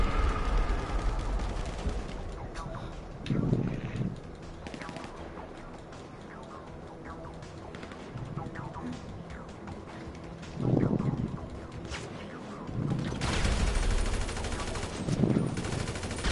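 Gunfire from weapons in GTA Online, an Entourage adversary mode match: several short bursts of shots ring out at moderate loudness amid steady wind-like background noise, spaced irregularly through the stretch.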